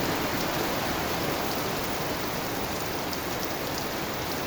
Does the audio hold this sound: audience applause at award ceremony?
no